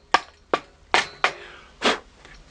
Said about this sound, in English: Just a little bit of tapping, very gentle tapping, and you'll see the thread appear.